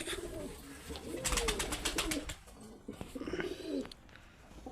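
A pigeon coos near and clearly in several rolling phrases, with a burst of fluttering wingbeats partway through as it settles.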